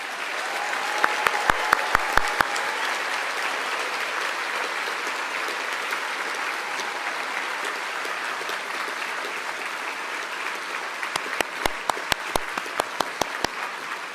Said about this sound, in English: ask for a big applause for the Department of Applied Science graduates of 2022